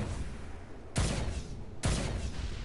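Two booming blasts from a lava cannon in the video game Saints Row, each a sudden loud burst about a second apart that decays over a steady background rumble.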